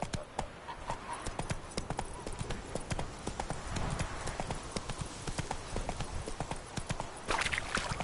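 Hooves of the horse in The Witcher 3 video game beat out a quick, regular trotting clip-clop for about eight seconds, close and fairly loud over a light background.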